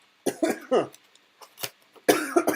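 A person coughs close to the mic in a quick cluster of harsh hacks, then a pause and another burst of coughs.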